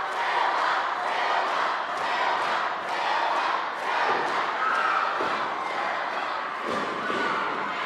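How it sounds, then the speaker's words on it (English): Wrestling crowd roaring and cheering continuously at a live match, a dense, loud wall of voices with rhythmic swells and occasional thuds, no clear speech over it. "This crowd is going crazy."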